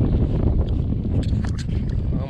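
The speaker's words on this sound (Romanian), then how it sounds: "Mamă, ce vânt s-a stârnit" Strong wind rises at a lakeside fishing spot, buffeting the microphone in a loud, rumbling, continuous roar that fills the whole moment, with a voice faintly underneath.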